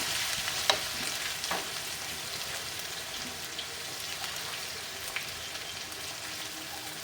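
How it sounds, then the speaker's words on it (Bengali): Ginger and garlic fry in a pan with a steady, close sizzle and crackle throughout, a few brief clinks of stirring, no voices. "আদা রসুনটা ভালোভাবে ভাজা হয়ে গেলে গুঁড়ো মশলা দেবো"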